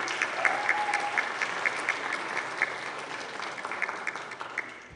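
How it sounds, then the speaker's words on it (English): Audience clapping at a food bank partner agency conference, a sustained crowd patter with regular sharper claps standing out, fairly steady throughout, with a brief vocal sound early on. "So if you know, raise your hand. We'll clap for you."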